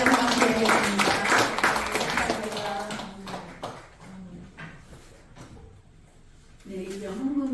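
Applause for a pastor at a Korean Christian women's worship service in the National Assembly prayer room, a dense patter of clapping through the first few seconds that thins out, with voices speaking over and after it.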